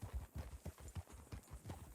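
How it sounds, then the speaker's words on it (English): Horses walking in Red Dead Redemption 2, their hooves giving a steady, rhythmic clip-clop of about eight close, fairly loud thuds across two seconds, with nothing else over them. "We're just riding horses."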